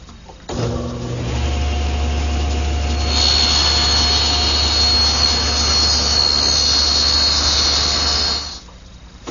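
A table saw rips excess stock off the bottom edge of a wooden molding, a steady loud motor drone with a rising high-pitched cutting whine through the middle, ending as the blade spins down.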